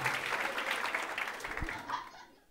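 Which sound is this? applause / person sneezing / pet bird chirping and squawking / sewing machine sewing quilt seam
applause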